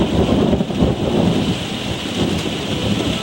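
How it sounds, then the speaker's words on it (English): Thunder from a nearby lightning storm rumbles loud and close, a dense continuous roll with rain hissing steadily underneath, no voices. "That's fucking definitely lightning."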